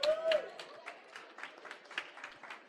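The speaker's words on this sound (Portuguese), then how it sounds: "Uma salva de palmas para eles." Light, scattered applause greets guests at a live podcast panel event: a sparse patter of individual claps, fairly faint, following a brief voice at the start.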